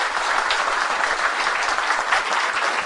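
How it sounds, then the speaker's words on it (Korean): An audience at a cooperative's annual general meeting applauding its board members, a dense steady clapping from many hands that fills the hall throughout. "진짜 마음에서 우러나는 박수 한번 보내드렸으면 좋겠어요"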